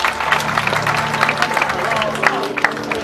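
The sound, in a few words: audience applauding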